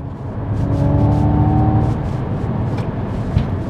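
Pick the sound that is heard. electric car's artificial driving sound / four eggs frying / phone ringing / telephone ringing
electric car's artificial driving sound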